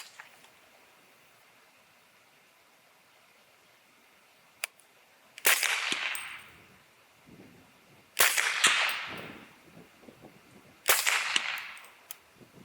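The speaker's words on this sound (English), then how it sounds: "It's almost like shooting a pistol from 100 yards." Three suppressed 300 Blackout rifle shots fired from 100 yards, each a sharp crack followed by a rolling echo that fades over a couple of seconds, spaced a few seconds apart after a faint earlier pop.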